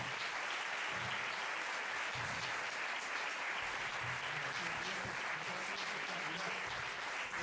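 A concert audience at a Fernando Argenta percussion concert applauds steadily and loudly throughout, a dense, even wash of many hands clapping without pause.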